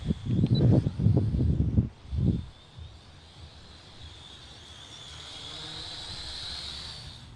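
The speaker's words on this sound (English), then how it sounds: "the Sky Viper S670 stunt drone" A few low gusts of wind buffet the microphone, then a thin, high whine of a Sky Viper S670 toy stunt drone's rotors hums faintly in the distance.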